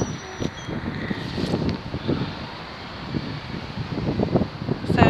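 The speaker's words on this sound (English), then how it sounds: "It's a bit windy." Outdoor wind on a cloudy but sunny walk, a steady gusty rumble buffeting the microphone with rising and falling surges throughout.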